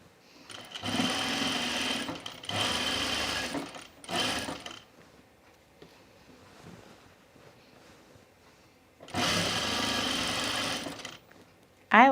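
A sewing machine stitches down a dress along a side seam in loud, steady runs of about a second and a half, pausing between bursts, with one long final run after a quiet stretch.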